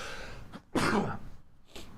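A single loud, explosive sneeze bursts out close to the microphone during a live real estate Q&A talk show, followed by quieter breathy noise and a fainter second burst.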